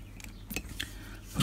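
Wire cutters snip the excess wire off a 4-wire Kelvin test lead for a DE-5000 LCR meter, giving a couple of brief, close, sharp clicks in a quiet room.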